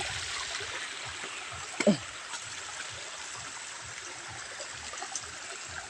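Clear water flowing in a stream, a steady soft trickle and wash across the whole stretch, with one brief splash partway through and no voices.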